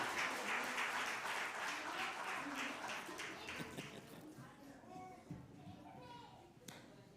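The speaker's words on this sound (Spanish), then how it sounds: "¿Le damos un aplauso a los niños?" A church congregation applauds the children, a dense burst of clapping that fades over several seconds as children's voices and chatter rise beneath it.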